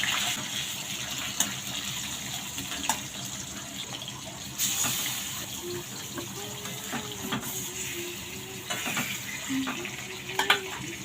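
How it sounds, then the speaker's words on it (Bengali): Fish simmers in a pot of bubbling liquid on a kitchen stove, a steady soft boiling hiss with occasional pops and clinks. "ফুটোটা ফুটছে গো, ঢাকা দিয়ে দিই তাহলে ফুটবে কম"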